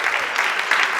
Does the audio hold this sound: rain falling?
no